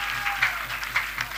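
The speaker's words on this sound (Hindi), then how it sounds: "कितना लोग ताली बजाकर प्रभु की महिमा करेंगे?" A church congregation claps in praise, a steady patter of many hands across the whole moment with a few louder bursts, filling the room without any voice on top.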